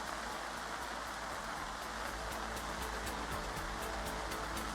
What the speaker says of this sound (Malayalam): ശക്തമായ രീതിയിലാണ് മഴ പെയ്യുന്നത്.